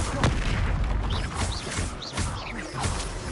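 Bombarda spell blasts going off during combat in Hogwarts Legacy, with repeated booming, crackling bursts over a dense, loud rumble of battle effects.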